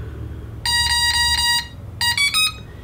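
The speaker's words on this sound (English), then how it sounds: "You're gonna hear the telemetry link beeping." Two bursts of high-pitched electronic beeping from a radio-control transmitter's telemetry link connecting: a steady run of tones, a short pause, then a quicker choppy set of beeps, loud and close.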